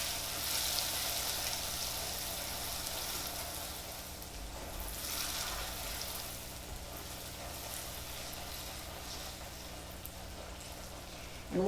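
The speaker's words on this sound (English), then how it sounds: "So now it's time to add your butter, and add it carefully because it's a very hot liquid." Butter melting into hot salted caramel sauce for crêpes, giving a steady close sizzle and frying hiss that holds throughout, with a brief clatter at the very end.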